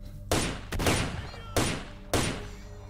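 Four heavy gunshots from a weapon in S.T.A.L.K.E.R. Shadow of Chernobyl, fired in uneven spacing, each a sharp loud crack with a brief echoing tail over a low hum.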